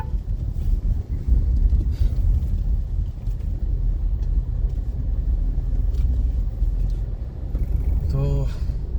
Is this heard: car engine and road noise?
yes